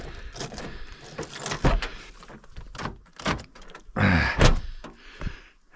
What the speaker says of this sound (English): So I'll open all the doors.